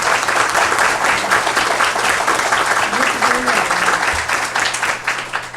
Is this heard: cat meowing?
no